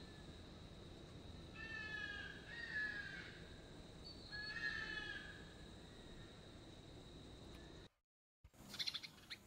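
Crows caw in a horror video game, harsh repeated calls in two bursts over a steady ambient drone, then a brief silence and a sharper burst at the end.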